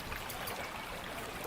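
Soft, continuous trickle of water running down from the hills into a small creek in a wooded hollow, faint and steady with no voices.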